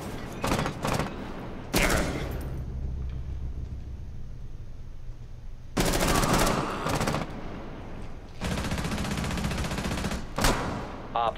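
Automatic gunfire in Rainbow Six Siege on the Kafe map, loud close bursts of rapid shots separated by quieter stretches of game ambience.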